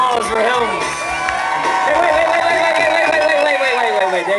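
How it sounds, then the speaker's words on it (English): Crowd at a beard and moustache competition in Austin whooping, cheering and shouting loudly, with voices rising and falling throughout. "Ladies and gentlemen, a big round of applause for him."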